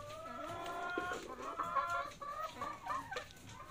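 Free-range hens on a chicken farm cluck and murmur close by, several birds overlapping in short, rising calls over a quiet rural background.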